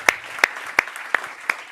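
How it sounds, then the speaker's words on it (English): A few separate handclaps, about five evenly spaced and fairly close, from a small audience thanking tech staff at a policy conference, with little else around them. "yeah, big clap for them."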